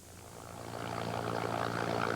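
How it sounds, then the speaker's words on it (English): A Sri Lankan Air Force helicopter in flight over tsunami-hit coast, a steady rotor and engine drone swelling gradually louder over about two seconds, with no voices. "I joined a Sri Lankan Air Force helicopter flight across some of the worst affected"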